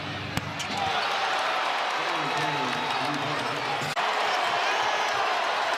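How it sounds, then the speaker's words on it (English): Excited basketball arena crowd roaring steadily after a deep three-pointer, a sustained wall of cheering with a ball bounce at the start and announcer voices talking over it. "This is about as excited as this crowd has been the second half of the season"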